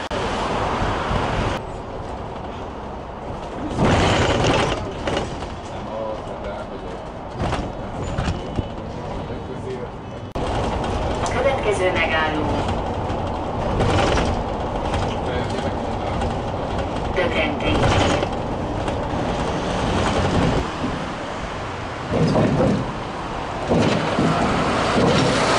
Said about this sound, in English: I'm now hopping onto a bus.